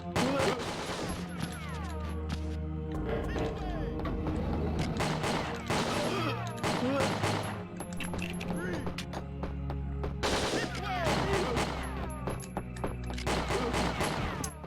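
Rapid SMG bursts in the video game Winback: Covert Operations, loud repeated gunfire mixed with game music and effects across the whole stretch.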